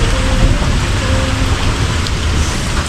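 Steady, heavy rain pours down, a dense continuous hiss of drops hitting a surface, loud and close throughout.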